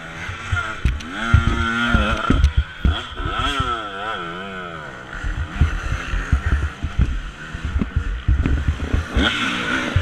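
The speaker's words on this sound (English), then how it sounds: "Now I hear other bikes coming" Dirt bikes come past on a hill during a harescramble race at an offroad track, engines revving and rising and falling in pitch as they pass close by, loud and overlapping.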